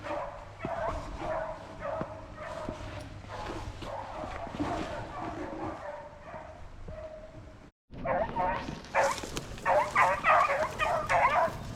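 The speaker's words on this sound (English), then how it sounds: "the dogs are running this rabbit really good right now." Hunting dogs chasing a rabbit through the woods in southwest Virginia, a pack giving steady, overlapping barks and yips at a middle distance, continuous throughout with a brief break and louder baying near the end.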